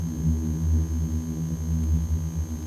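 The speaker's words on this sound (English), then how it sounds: "This is a sound generated by an avalanche on a dune." A sand dune avalanche gives off a low, booming, musical drone. The steady hum-like tone holds for a few seconds at a moderate level, with no voices.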